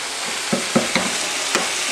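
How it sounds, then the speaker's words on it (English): A utensil scrapes and stirs sticky honey sauce in a frying pan over steady sizzling, with four distinct scraping strokes spaced about a quarter second apart, close and alone without talk. "Make sure to scrape the bottom, because sometimes the honey sticks."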